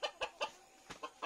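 A hen clucking nearby in a series of short, evenly spaced, soft clucks, about seven in quick succession, heard alone at low volume.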